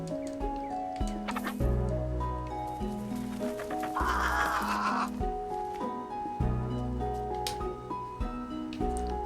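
Cow lowing in the farming and cooking video game Beastro, drawn-out tonal calls repeating over a steady bed of game music, fairly clear and without talk.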